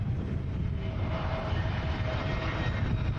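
EasyJet Airbus A320 Neo touching down at Manchester Airport, a steady distant engine roar with broad rumble, fairly faint and constant throughout.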